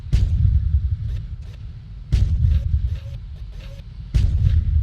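Electric tank cannon firing in the video game Tanki Online: three heavy booming shots about two seconds apart, each with a crackling tail, and faint beeps in between.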